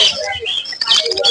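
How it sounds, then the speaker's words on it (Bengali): Several pet birds of quality breed chirp and tweet in quick, busy bursts, close and fairly loud, with no voices over them. "অনেক অনেক অনেক সুন্দর পাখিগুলো দেখেন"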